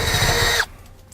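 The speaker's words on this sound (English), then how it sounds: "I'm going to drill a pilot hole right in the center" A small power drill bores a pilot hole through the center of a van roof panel for a roof vent fan install, a loud close high whine that cuts off abruptly after about half a second.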